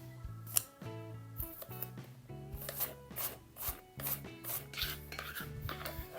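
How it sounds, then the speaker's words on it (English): Knife chopping unpeeled apples on a board for homemade Christmas mincemeat: quick, irregular cutting strokes in close succession, close by, over quiet background music. "Then we're going to chop these apples up."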